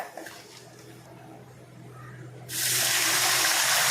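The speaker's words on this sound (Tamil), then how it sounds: "அடுப்பை சிம்மில் வச்சுட்டு 3 பங்கு அளவு தண்ணி சேர்த்துக்கோங்க" Water gushes steadily and loudly into a pan on a low flame while fruit kesari is being cooked with semolina, starting abruptly after a quiet stretch with faint kitchen clatter.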